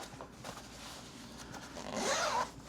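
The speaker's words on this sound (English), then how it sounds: "Now we'll zip it back up." Zipper on an Alpinestars Tech-Air 3 motorcycle airbag vest is drawn closed, a quiet close-up rasp that builds into a brighter, quicker zip near the end, with faint handling rustle before it.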